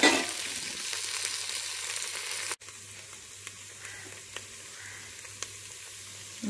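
Field beans (mochai) tipped into a pan of sizzling garlic and onion: a loud hiss that drops suddenly to a softer sizzle dotted with small crackles and pops, close up with no speech.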